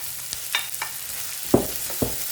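Spices and a little okra being sautéed in a pan while cooking ginisang corned beef, a soft steady sizzle broken by a few sharp spatula scrapes and knocks, close and without talk.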